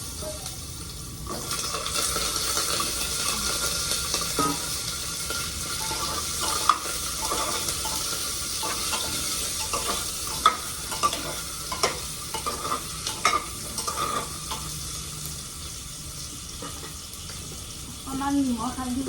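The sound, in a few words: potatoes frying and sizzling in hot oil, being stirred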